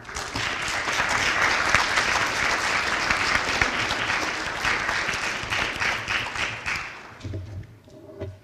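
An audience at a national colloquium lecture gives a warm round of applause to welcome a speaker, the dense clapping filling the hall and then tapering off near the end.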